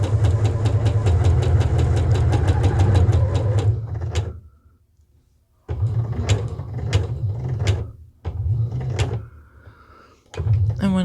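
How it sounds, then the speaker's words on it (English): Sewing machine stitching a square on a fabric casserole carrier, running in fast steady bursts with short pauses between runs and faint clicks during the stops. "I'm just going to sew a square."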